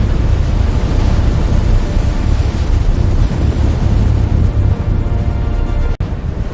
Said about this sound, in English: The torpedo tears past them, missing by seconds.